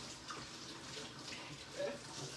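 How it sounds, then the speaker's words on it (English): Water runs from a kitchen tap while hands are washed during deviled egg preparation, a faint continuous splashing hiss at low level throughout. "I'm going to wash my hands"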